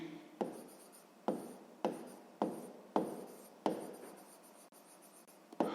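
A pen scratches across a notebook page in regular strokes, about eight close, quiet bursts each fading out, while someone writes out a sixth-grade maths exercise.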